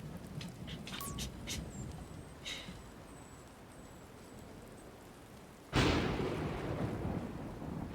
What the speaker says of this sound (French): Et l'orage, tu te calmes.